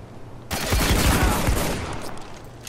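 Gunfire in Spec Ops The Line multiplayer breaks out as a sudden loud burst of rapid shots, close and dense, then trails off into echo.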